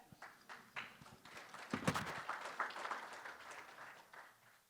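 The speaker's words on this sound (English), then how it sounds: "Give them a big round of applause." A small audience applauds at a welcome and announcements gathering, a scattered burst of clapping that swells in the middle and then thins out, fairly faint with no talk over it.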